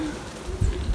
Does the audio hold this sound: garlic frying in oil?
no